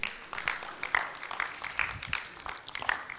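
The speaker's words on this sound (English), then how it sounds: "Another round of applause for Baba Savioji Ogu." Soft, steady applause from an audience at a book launch event, a fairly distant and quiet patter of many hands clapping at once, with no talking over it.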